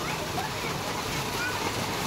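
People playing in a village well, with water splashing and sloshing in a steady, loud, continuous wash of sound throughout.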